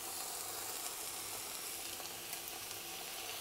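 Beef sears in a hot pan with a continuous bright sizzle and steady hiss, faint crackles popping through, close and alone without voices.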